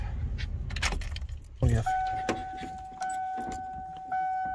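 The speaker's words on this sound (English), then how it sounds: "Keys." Keys jingle inside a V8 truck camper van, with a short metallic clatter near the start, followed by steady electronic chime tones repeating in the cab and a brief spoken remark.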